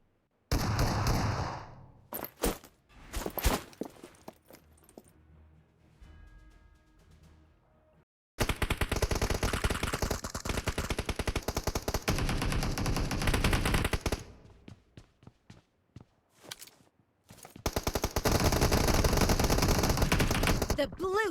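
Shotgun blasts and M24 bolt-action rifle shots from PUBG Mobile in a hangar team deathmatch, loud bursts of gunfire in several dense stretches separated by quieter gaps with scattered single shots.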